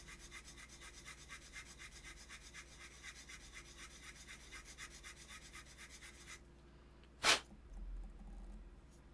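A bastard file setting a bevel: steady rhythmic rasping strokes for about six seconds, close and moderately quiet, then it stops, with a brief sharp scrape and a faint thud afterward.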